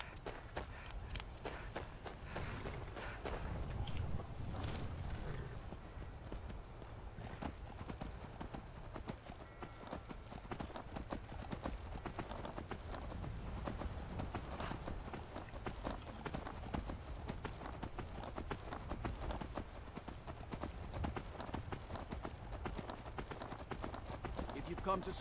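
Horse hooves clip-clop steadily throughout as a horse is ridden toward Solitude in Skyrim, a continuous rhythmic trot-to-gallop beat with occasional snorts, heard close under game ambience and occasional speech.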